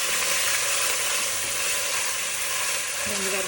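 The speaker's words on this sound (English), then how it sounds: "Now add ginger garlic paste. Saute for 1 to 2 minutes until the raw smell disappears." Ginger garlic paste sautéing in a pan for a homemade Indian chicken curry gives a steady, close sizzle with hissy frying noise that holds evenly throughout, with no talk over it.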